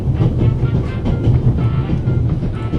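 A train running in the video game The Raven: Legacy of a Master Thief, a steady low rumble with faint rhythmic clatter, continuous and close, with no talking.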